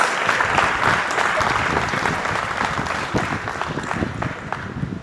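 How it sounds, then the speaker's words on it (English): A big hand of applause for a graduating class at a Class of 2025 ceremony: dense, continuous clapping from a large audience, loud and even throughout with a slight fade toward the end. "let's give them a big hand of applause for these monumental achievements"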